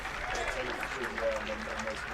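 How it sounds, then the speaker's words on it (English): A crowd applauds at a one-day cricket match between Glamorgan and Sussex, a soft distant patter of clapping underneath a commentator's talk. "Gets a round of applause."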